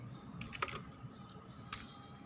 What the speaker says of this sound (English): Suppose if I type the name of my school